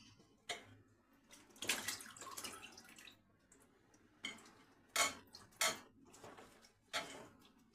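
Water splashes and drips as butter is washed in a bowl under plenty of water, with intermittent sloshes and clinks, quiet and close, no talk.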